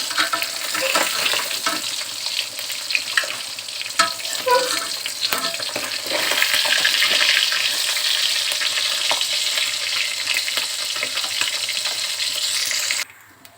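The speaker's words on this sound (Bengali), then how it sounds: "এখন কাঁকড়গুলো ভেজে নেব" Teasel gourd and potatoes sizzle and crackle steadily in hot oil, loud and close, with occasional stirring scrapes; the hiss cuts off abruptly at the end.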